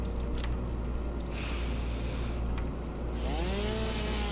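A chainsaw drones steadily and loudly in a video game where conveyor belts are being built, its engine buzz continuous with brief revving changes and no talking.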